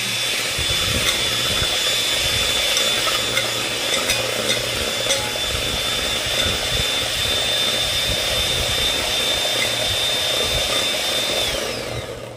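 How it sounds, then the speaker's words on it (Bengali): An electric blender running on its lowest speed, churning an ice cream mixture with a steady loud whirring drone that continues unbroken for about twelve seconds before easing off. "1 নম্বরে দিয়ে এবার এটা আমি ব্লেন্ড করছি"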